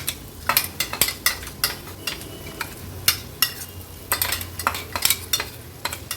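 Crushed pigeon peas are stirred into a paratha filling in a bowl, giving soft scraping and repeated sharp clinks of a spoon against the vessel in an uneven rhythm, close-up and with no speech.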